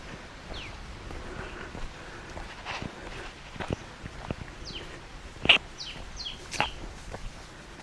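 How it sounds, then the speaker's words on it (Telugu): Birds chirp near Lonar crater lake, with short, sweeping calls scattered through the clip over quiet outdoor ambience. Footsteps and rustling are heard nearby, and a sharper burst of calls comes toward the end. "పక్షుల సౌండ్ తప్ప ఏమి వినిపించట్లే."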